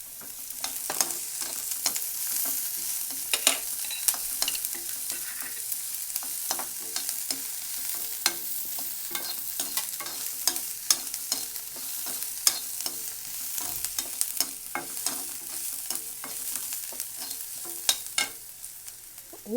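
Finely chopped garlic fries in a pan for manathakkali keerai kootu, a steady crackling sizzle broken by frequent scraping and clacking stirs, close and continuous with no talking.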